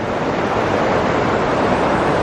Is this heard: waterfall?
yes